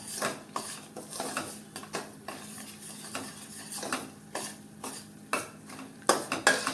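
Flour roasting in ghee in a pan while being stirred, steady scraping and clinking strokes over a low sizzle, close by with a few sharper knocks near the end, no talking.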